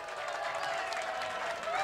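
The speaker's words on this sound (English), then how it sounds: "Listen to this crowd." Crowd at a televised bowling match cheering and applauding after a strike attempt leaves a 10 pin, a steady, dense roar of clapping and voices with a faint tonal line running through it.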